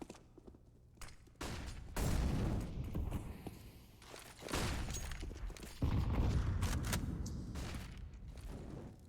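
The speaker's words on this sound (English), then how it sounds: "Several grenades going into the connector." Several grenades explode in a CS:GO professional match on the Mirage map, heavy low booms and rumbles arriving in separate bursts over a few seconds amid scattered game noise.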